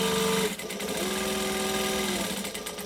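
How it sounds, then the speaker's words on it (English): Up close, a sewing machine runs a continuous stitch and then a back stitch at the start of a seam, a loud steady whirring hum with a slight shift in pitch as it reverses. "Stitch, back stitch."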